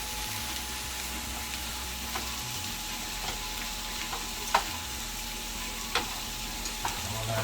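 Peppers charring and sizzling in a hot pan on turned-up heat, a steady frying hiss with occasional sharp crackles and scraping stir sounds, close and alone with no talking.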